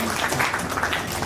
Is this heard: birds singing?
no